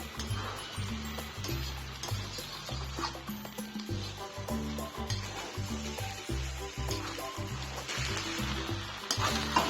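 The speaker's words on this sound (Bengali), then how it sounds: "ভালো করে নেড়ে নিচ্ছি" Ghee and sugar being stirred together in a pan for a gaathi kochu biryani, with a steady sizzle and repeated scraping strokes of the spoon in a regular rhythm, close and moderately loud throughout.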